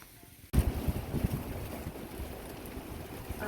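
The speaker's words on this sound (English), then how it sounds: "it's not coming down, but it's the wind" Strong storm wind during 100 mph gusts with no electricity bursts in suddenly after a quiet half second, a loud roaring rush of buffeting gusts that keeps blowing steadily.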